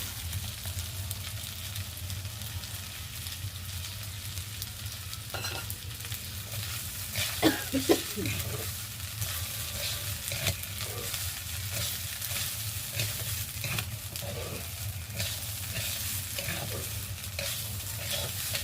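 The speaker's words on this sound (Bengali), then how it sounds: "ভেজে রাখা মুগ ডালটাও দিয়ে দেবো।" Fried mung dal is added to a pot of khichuri and stirred, giving a continuous close sizzle of frying with scattered scraping and clinking from the spoon throughout.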